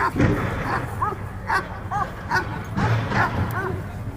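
Several police K9 dogs bark and yip repeatedly at close range during a K9 demonstration, sharp overlapping barks in an irregular rhythm over a noisy crowd background.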